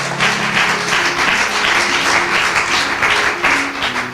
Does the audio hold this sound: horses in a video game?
no